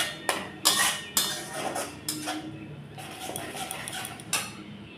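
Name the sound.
stirring and frying tomato puree masala in a pan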